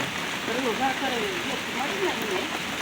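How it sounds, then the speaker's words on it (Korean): Heavy rain pours steadily outdoors on a wooded hillside where cats are being fed, a dense continuous hiss throughout, with a voice talking over it. "비가 갑자기 이래 쏟아져요. 엄청나게."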